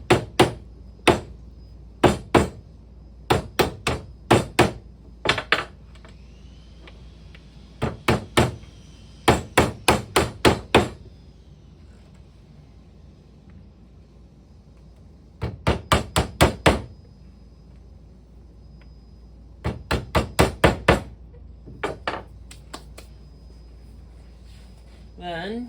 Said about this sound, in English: Next, you would just hammer in these guys.